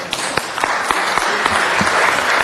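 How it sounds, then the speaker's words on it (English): Applause for a city fire department at a city council meeting: a steady burst of hand-clapping with some sharper individual claps, close and fairly loud, with no voices over it. "I applaud you all for your coordinated effort"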